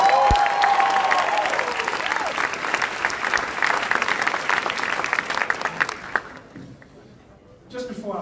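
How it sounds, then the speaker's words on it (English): Applause from a crowd at a Chicago Teachers Union rally, a dense sustained clapping that swells and then fades out over several seconds, with a voice briefly over the top at the start. "Please give him a round of applause."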